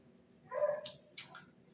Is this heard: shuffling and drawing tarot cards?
no